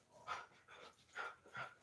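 A dog makes a few soft, faint whining yelps in short bursts, as if working up to a bark, with no talking.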